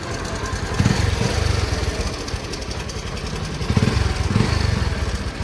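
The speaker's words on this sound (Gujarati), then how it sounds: "હવે કાર્બેટરમાં થોડી પ્રોબ્લેમ છે પલ્સરમાં," A Bajaj Pulsar motorcycle with a carburettor problem runs at a rough, uneven idle close by, loud and chugging with a couple of brief revving surges.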